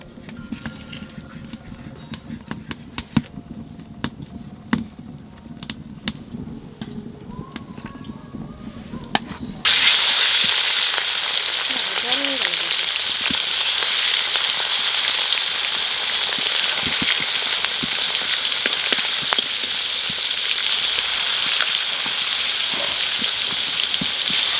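Rohu fish and eggplant frying in hot oil in a large wok, quiet with faint clatter at first, then a loud, dense, steady sizzle that starts abruptly and carries on to the end.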